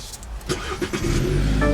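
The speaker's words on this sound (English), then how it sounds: "what you're hearing there is a 2-liter turbocharged 4-cylinder" A 2018 BMW 330i 2.0-liter turbocharged four-cylinder engine cranks briefly with a few uneven bursts, then catches and settles into a steady, close idle hum.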